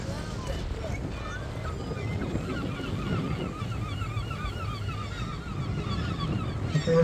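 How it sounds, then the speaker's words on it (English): Guillemots call in a sea cave along the Tenby coast, a chorus of repeated honking, croaking cries under steady wind, water and boat noise while someone talks over it. "There's little guillemots by the looks of it. Little black and white birds."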